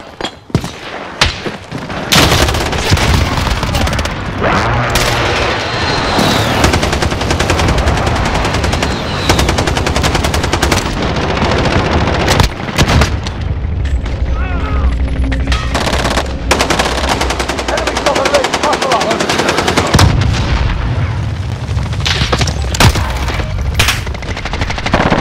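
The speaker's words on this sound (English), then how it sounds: "Enemy precision airstrike." Heavy automatic gunfire and booming precision-airstrike explosions from Call of Duty: Modern Warfare, loud and nearly continuous with dense bursts and thuds throughout.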